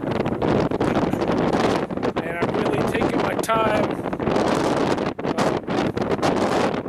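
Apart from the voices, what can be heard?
strong wind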